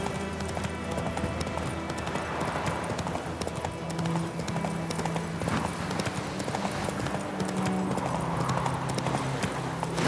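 Roach, the horse in The Witcher III, gallops in a continuous rhythmic clip-clop of hooves under ambient game music, with faint bits of talk.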